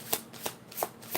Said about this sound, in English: my thumb hurts every time I get to shuffling too much